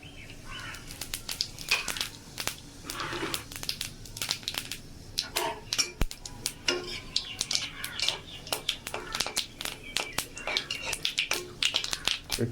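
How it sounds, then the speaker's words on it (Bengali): Whole cumin seeds and dried red chillies crackle and spit in hot oil as a tempering for a spicy Bengali fish curry, a dense run of sharp close pops and snaps throughout. "তেলের মধ্যে আবার দিয়ে দেবো ফোড়নে গোটা জিরে আর শুকনো লঙ্কা।"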